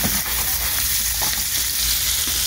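Royal red shrimp sizzle in a frying pan, a loud, close, continuous crackling hiss with scattered small pops and occasional stirring scrapes, no voices.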